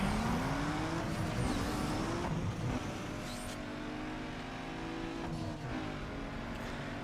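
Race cars roaring through a Need for Speed Underground 2 race on PS2, with a Peugeot 206, Mazda MX-5 and Mitsubishi 3000 GT on track; steady loud engine drone with rising and shifting revs, no talking.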